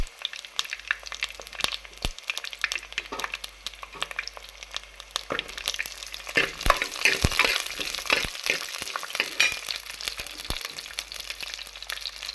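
Small shallots sauté in hot oil for a homestyle fish curry, giving a steady crackling sizzle with bursts of stirring and spatula scrapes that build in the middle, close up and with no talk.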